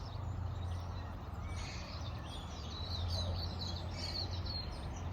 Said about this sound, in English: I don't know if you can hear the bird song, but it's just so peaceful down here.